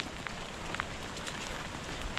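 Rain falls steadily in a forest, a soft continuous hiss with scattered faint drops, distant and quiet.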